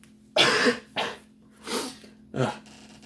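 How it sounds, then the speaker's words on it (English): A burst of explosive sneezing and coughing, four sharp fits spaced close together, loud and near in an otherwise quiet room. "I'm gonna sneeze."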